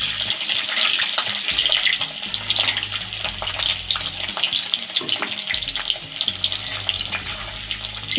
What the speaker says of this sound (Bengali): ক্যাপসিকামটা একটু ভেজে নেবো অল্প একটু ভেজে নেবো